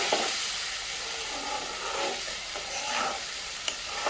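Gongura prawn curry simmers in a pan with a steady, soft sizzle and bubbling hiss, close by and fairly quiet, with faint stirring or spoon scrapes and no talking.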